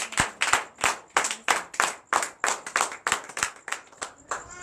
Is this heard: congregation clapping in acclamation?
yes